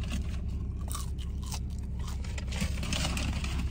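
McDonald's fries crunch in close, repeated bites and chewing, crisp and steady against a low background hum, with no talking.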